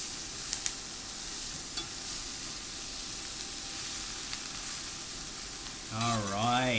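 Stir fry sizzles steadily in a hot pan with a splash of fish sauce, a continuous crackling hiss; near the end a voice speaks briefly over it.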